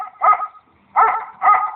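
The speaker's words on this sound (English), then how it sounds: "his deep, loud bark started echoing through the woods" A big dog gives three loud, deep barks in the woods, the first set apart and the last two in quicker succession.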